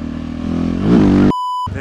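A loud motorcycle engine drones and revs up, then cuts abruptly to a steady electronic beep before the engine noise returns.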